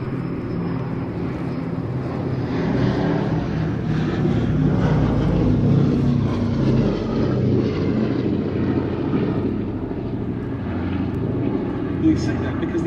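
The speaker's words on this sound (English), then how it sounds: "What a pleasure to once again see a display over Duxford from B-17G Sally" The four-engine B-17G Flying Fortress Sally B flies a display over Duxford, its propeller drone a steady, full rumble throughout with a voice talking over it.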